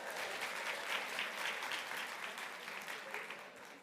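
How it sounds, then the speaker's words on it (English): An audience at a live beauty event gives a round of applause: dense, even clapping that holds steady for several seconds, heard somewhat distant and soft. "Give her a round of applause"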